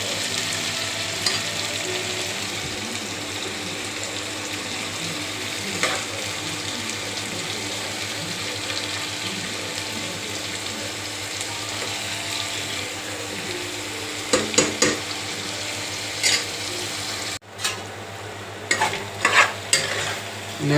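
Okra sizzles in a pan with sliced onions and green chillies while being stirred, a steady close frying hiss broken near the end by a few louder scrapes and clatters of the spoon against the pan.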